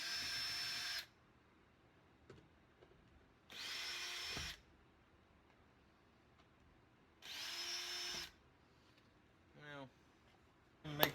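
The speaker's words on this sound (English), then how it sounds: "Unscrewing these brackets here" Power drill unscrewing carpet brackets inside a Honda Odyssey, three separate bursts of high whirring about a second each, close, with a quieter ratcheting sound near the end and faint talk in the gaps.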